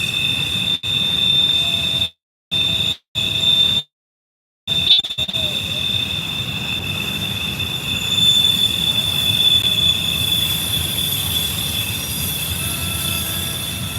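A freight train's wheel squeals steadily on Horseshoe Curve in Pennsylvania, a sustained high metallic whine riding over low rumbling rail noise for the whole stretch, broken by a few brief dropouts.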